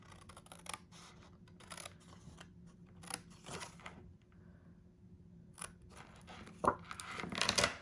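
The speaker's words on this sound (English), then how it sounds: "cut these pieces away" Scissors snip away pieces of card for a folded greeting card, giving a series of quiet, irregular crisp cuts and rustles close by, with a busier flurry of snipping near the end.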